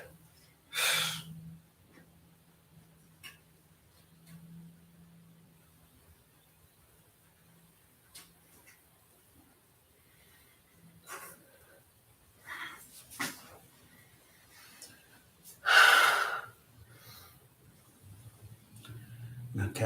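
Breath sounds during a yoga exercise for high blood pressure: a few sharp inhales and exhales spaced apart against near silence, close and intermittent, with a short bit of soft speech.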